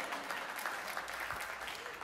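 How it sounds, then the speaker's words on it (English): Congregation clapping during a Sunday church service, a steady wash of applause from a crowd that continues throughout, moderately distant and fairly quiet. "They're clapping"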